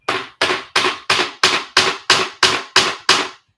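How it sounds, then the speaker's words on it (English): Ten evenly spaced, loud, close hammer blows ring out in a steady rhythm during the building of a wooden loom, each strike sharp with a short decaying ring and no talking. "Please grab a cup of tea and join me while I hammer."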